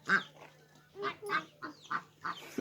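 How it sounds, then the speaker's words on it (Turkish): Several loud quacks from a duck with its ducklings come in short bursts, close by, with a low steady hum in the background. "Ördek mi geliyor oğlum?"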